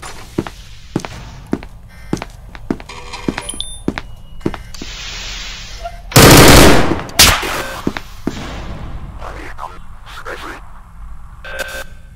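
Gunfire in the SCP Anomaly Breach video game: a steady run of sharp single shots and thuds, then a loud sustained burst of rapid fire in the middle, followed by more scattered shots.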